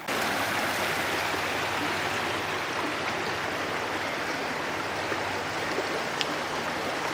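Creek water flows steadily nearby, a dense, continuous rushing and babbling with no breaks or voices.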